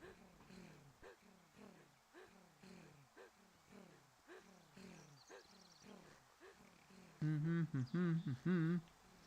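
Loud animal roars and grunting calls from chameleons in the video game Pinata, repeated in a steady series, with a burst of louder tonal cries near the end.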